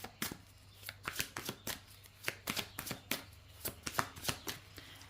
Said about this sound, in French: On va prendre 2 cartes.